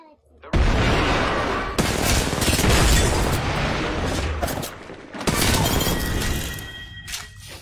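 Video game gunfire in a squad shooter, dense rapid bursts and booming shots filling most of the stretch, loud and close, with brief pauses between volleys.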